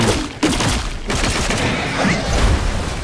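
Explosions and heavy gunfire-like blasts erupt in the action game Black Myth: Wukong, with loud dense booms and crackling bursts filling the whole span, a sharp impact near the start and another around the one-second mark.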